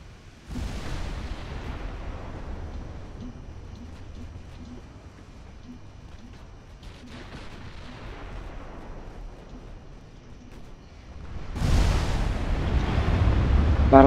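Battleship secondary guns booming in the naval video game Ultimate Admiral Dreadnoughts, deep rumbling blasts that roll and fade, ending in a heavier, louder salvo.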